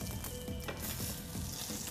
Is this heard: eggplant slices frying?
yes